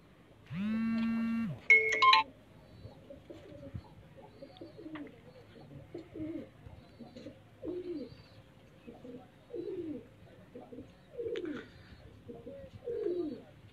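Pigeons at a rural dera coo in a quiet outdoor setting, giving soft repeated low calls about once a second, with a brief brighter electronic-sounding tone at the start.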